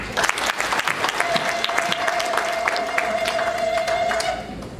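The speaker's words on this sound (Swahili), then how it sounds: "Pia makofi mengi." A crowd applauding at an official gathering, dense continuous clapping from many hands, loud and close, with a sustained whistle tone running through the middle.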